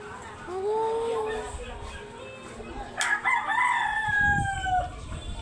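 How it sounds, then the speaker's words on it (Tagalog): A rooster crows close by with a long, rising and falling call, heard over faint background chatter. "ang ingay na ng manok"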